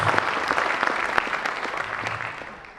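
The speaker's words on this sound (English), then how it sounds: "So can we get another round of applause for our community leaders, our dignitaries" Steady audience applause at a university cultural showcase, honouring community leaders and dignitaries, sustained and even before easing off slightly toward the end.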